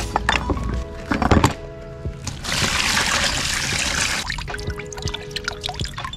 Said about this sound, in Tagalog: Pagkatapos po syempre hugasan na natin siya ng tubig na malinis.